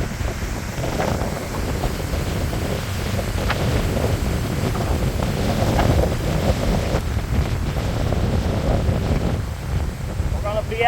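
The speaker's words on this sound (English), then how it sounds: "Check out the wind." Strong gusting wind as a severe thunderstorm approaches, a steady loud roar of wind buffeting the microphone throughout, with rushing outdoor noise and no speech.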